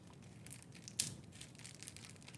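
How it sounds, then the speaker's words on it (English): Plastic wrapping being crinkled and torn off a CD case: faint, close rustling and crackling with one sharper snap partway through, no talking. "Let's unwrap it"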